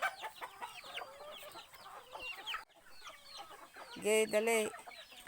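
Native chickens cluck in scattered bursts around a rural provincial yard, with one louder, close rooster-like call near the end. A person speaks briefly over them.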